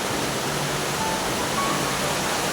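A dense, constant roar of heavy rain pouring down, loud and unbroken, with no voices.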